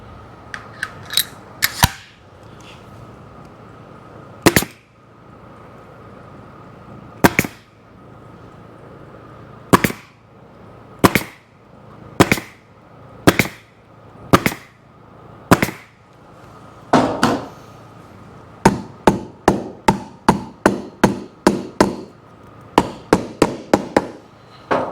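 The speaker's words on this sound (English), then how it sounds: "I'm just shooting staples in just like I did all the other ones" A staple gun fires staples into jet ski seat vinyl, sharp loud snapping shots, widely spaced at first and then coming in quick, regular runs, each one close and crisp against a quiet hum.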